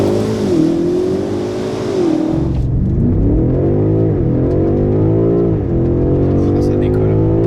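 A BMW M5 Competition launches hard under launch control, its engine note climbing steeply through several rising gear pulls, loud and close, with no talk over it.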